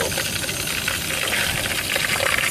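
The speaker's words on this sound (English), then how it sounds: "Most of the crackling you hear is because the water in there is evaporating and splashing in the melting wax" Dense, busy crackling and sputtering with small splashy pops, continuous and close, as water evaporates and splashes in melting wax while making fire starters.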